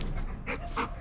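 A dog at a lodge gives a short, close whimpering yelp, a brief high whine rising over a steady background.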